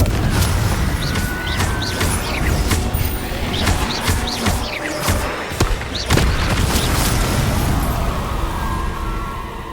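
Confringo blasting spells in the Hogwarts Legacy video game go off in a run of booming thuds and crackling bursts over a constant loud rumble, with sharp hits spread through the whole stretch.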